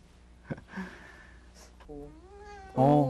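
A cat meows twice, a drawn-out rising cry followed by a louder, insistent meow, with some quiet rustling beforehand.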